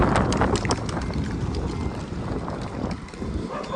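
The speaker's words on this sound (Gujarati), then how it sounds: "હાલ ફૂલ વાયરો આવી ગયો છે, લગભગ વાવાઝોડું આવી ગયું છે" Strong storm wind gusting hard during a cyclone-like squall near a temple road in Tharad, Gujarat, roaring as broadband buffeting against the microphone that stays loud and steady with rough surges throughout.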